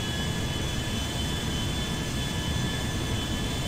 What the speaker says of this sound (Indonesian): Kita ikutin pesawat yang besar itu, guys.